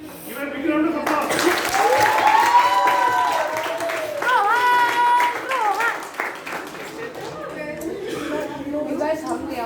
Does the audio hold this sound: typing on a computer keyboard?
no